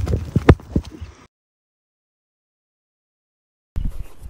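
A young horse's hooves clatter in a short burst of rapid beats, then the sound drops out completely before a fresh run of hoofbeats starts up, close and fairly loud.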